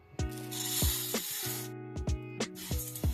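Black urad dal roasts dry in a pan, giving rough, rasping scrapes and rustles as it is stirred in short bursts over background music.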